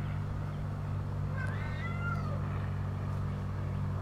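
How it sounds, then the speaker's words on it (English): A house cat gives a short, odd, wavering meow over a steady low mechanical hum from an air conditioner, faint and brief in an indoor room. "my cat is being so annoying right now. And she's like making really weird noises."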